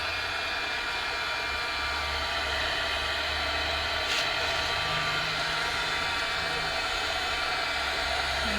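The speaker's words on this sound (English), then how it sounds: "I'm going to dry this a little with my dryer just to make sure" A steady, breathy rush of blown air from a hair dryer drying a gel print runs without a break from start to finish, held close and running at an even speed.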